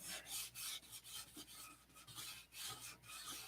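Sandpaper rubs back and forth by hand over touch-up spots in steady, rhythmic rasping strokes, close but faint, with no voices.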